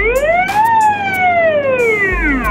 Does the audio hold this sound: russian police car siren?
yes